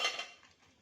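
A lid clatters onto a pan of salted, chopped bitter gourd in a home kitchen, a single quick metallic clank that fades fast into quiet.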